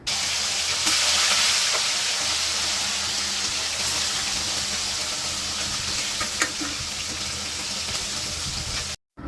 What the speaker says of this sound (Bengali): আমাদের তেল গরম হয়ে গেছে, এবার মাংসগুলো দিয়ে দিব।